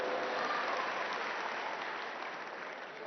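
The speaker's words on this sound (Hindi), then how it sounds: "आप सब अपने खुद के लिए ताली बजा दीजिए जोरदार" An audience claps for themselves on a loud cue at a live mind-power seminar, a dense, steady burst of applause from a full room that fades slightly toward the end.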